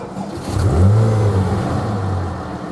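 A Porsche 997.1 911 GT3 engine revs up and holds a strong, throaty note, rising sharply and then sustaining a smooth mid-range drone over nearly three seconds, close and loud with no talking.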